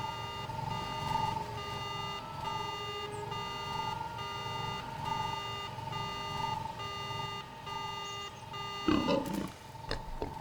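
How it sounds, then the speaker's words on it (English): A speeder's alarm rings in Star Wars: Knights of the Old Republic as a steady, repeating electronic tone in a looping pattern. A short burst of noise near the end briefly breaks through the alarm. "The speeder's alarm begins to ring out."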